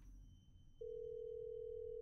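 A steady telephone tone from a horror video game begins partway through and holds unbroken over dark, rumbling ambience, marking a call that goes unanswered.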